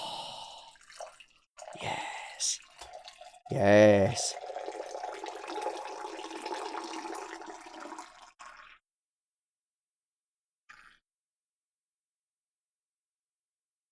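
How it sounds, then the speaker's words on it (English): Tea is poured from a height into a cup, giving a steady splashing, bubbly stream for several seconds with a few drips; a person sighs and briefly murmurs near the start. "It ended up being foamy because I poured it from so high."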